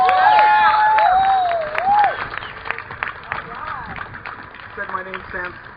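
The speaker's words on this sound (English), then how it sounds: "Give him a big round of applause." Audience applause and cheering, a dense wash of clapping with whistles and shouts from a crowd, gradually thinning out while voices chatter underneath.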